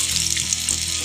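Garlic, cumin and ground chili hit hot oil for a tadka, a brief burst of bright sizzling hiss, close and moderately loud.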